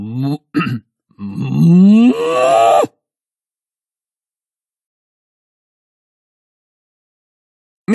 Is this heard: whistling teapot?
no